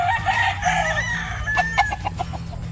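A young gamecock stag crows close by, one loud drawn-out call with a wavering rise and fall, followed by a few short clucking notes over a low background hum.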